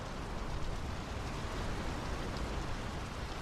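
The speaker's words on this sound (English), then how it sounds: "The rain's picking up." Rain falling in the video game Draugen, a dense, even hiss of heavy rainfall that holds steady and loud throughout with no voices.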